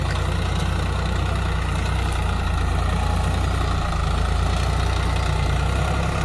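A tractor engine runs steadily while ploughing a paddy field, a loud, continuous low rumble that holds constant throughout with no voices.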